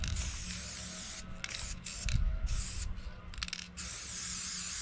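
A $3–4 can of spray paint hisses in several long bursts while coating a dark rain barrel, each loud spray broken by short pauses and faint handling noises.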